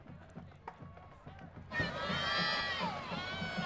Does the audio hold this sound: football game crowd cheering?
yes